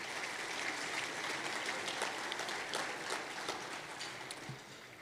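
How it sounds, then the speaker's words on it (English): A room of guests at a small business awards event claps for the sponsors, a soft, even patter of many hands heard from some distance, holding steady before easing slightly at the end. "If y'all could give them a quick hand of applause."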